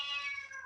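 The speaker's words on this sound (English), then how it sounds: "because I heard a cat, I'm like, wait, is that my cat outside or yours?" A pet cat gives a single short meow, fairly faint and a little distant, alone without talk.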